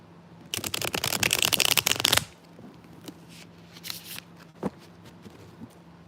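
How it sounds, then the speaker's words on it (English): Rapid riffle of tarot cards being shuffled for about two seconds, crisp and close, followed by quieter handling taps and a soft thump. "Let me shuffle the cards."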